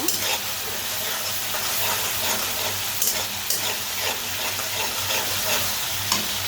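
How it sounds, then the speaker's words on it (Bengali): Masala spice paste fries in hot oil in a pan for a Sharputi fish dish, giving a steady close sizzle and hiss with stirring scrapes and no voice. "এখন আমি ভালো করে মশলাটাকে কষিয়ে নেব"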